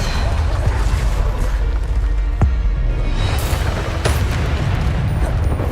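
Bombarda spell blasts in Hogwarts Legacy land as loud, deep booms amid continuous rumbling combat noise, with a couple of sharp bursts standing out.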